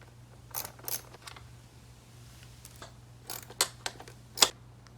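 Bolts holding the seat of a Yamaha PW80 dirt bike being loosened by hand tool: a handful of sharp metallic clicks and ticks, scattered and close, over a faint steady hum with no talking.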